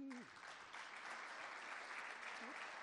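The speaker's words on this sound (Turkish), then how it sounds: "Selin Hanım'ı hak ettiği bir alkışla" Audience applause at an economics forum fills the whole stretch, dense and steady, with a brief bit of voice near the start and another near the end.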